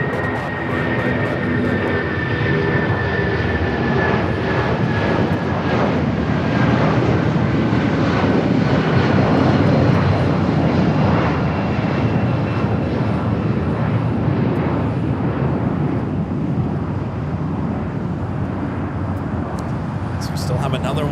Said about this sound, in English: Turkish flight 180 heading back to Istanbul. 777-300ER already rolling down at 25 right.